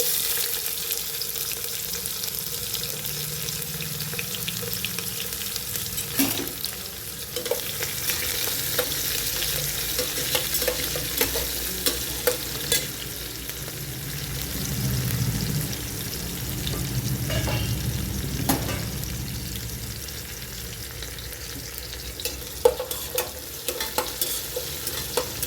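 Onion sizzles and fries in hot oil with bloomed cumin in a pan, a steady close crackle broken by repeated scraping strokes of a spoon stirring through it.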